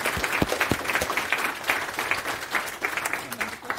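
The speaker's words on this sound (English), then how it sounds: "So applause to you." Audience applause at the close of a conference talk about an open source design collective, a steady wash of many hands clapping with some sharper nearby claps, continuous throughout.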